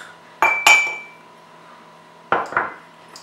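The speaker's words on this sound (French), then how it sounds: "et je mélange avec une fourchette." A fork clinks against a mug while butter and sugar are mixed, sharp ringing taps in two pairs separated by a quiet pause.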